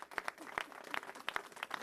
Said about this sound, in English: Can we give a big round of applause to the amazing legal minds